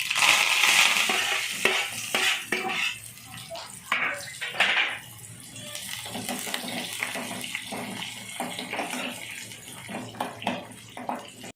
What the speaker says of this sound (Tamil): குழம்புக்கு தேவையான தண்ணி ஊற்றிக்குவோம்.